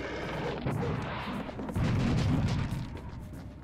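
Cannons fire in the shooter video game Serious Sam HD, producing heavy booming blasts and rumbling impacts that overlap in quick succession, loud and continuous with no talk.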